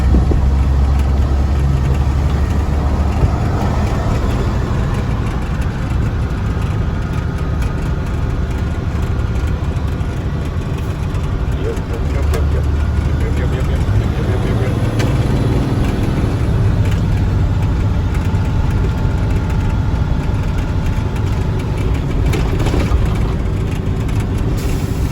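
The overhauled engine of a Freightliner truck idles steadily on a rainy day, with a loud, unbroken low rumble that runs throughout.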